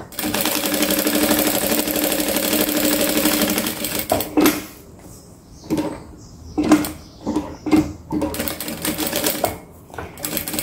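A sewing machine stitches log cabin patchwork, first in a long steady run of rapid stitching, then in short bursts separated by pauses, with faint handling noises between.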